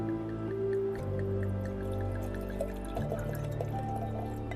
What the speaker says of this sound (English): So let's go ahead and pour ourselves a nice simple glass here.